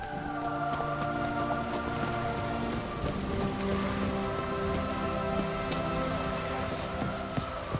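Steady, dense rain patters across the soundscape of The Witcher 3: Wild Hunt, continuous and fairly close, layered over sustained tonal background sounds with no talking.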